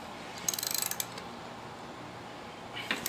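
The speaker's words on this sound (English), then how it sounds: "Got the ratchet on there. That'll loosen this bolt up." A ratchet clicks quickly in a short run as it loosens a bolt on a Tein Street Basis Z coilover on a Mazda RX8, close and distinct, then pauses and clicks again briefly at the end.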